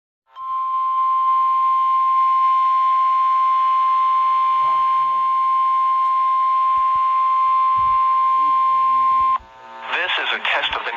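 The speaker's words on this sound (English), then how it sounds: "The preceding signal was a test of the weather radio station's public warning system." A NOAA Weather Radio warning alert tone plays as a test, one loud, continuous steady beep lasting about nine seconds, followed by an announcer's voice starting to speak.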